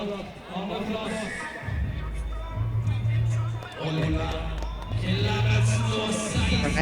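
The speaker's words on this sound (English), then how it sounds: "Crowd, you can hear the crowd. They're getting pumped." Crowd at an outdoor Døds diving competition in Arendal, a broad roar of cheering and shouting that rises and swells in waves, loud and continuous, with an announcer talking over it.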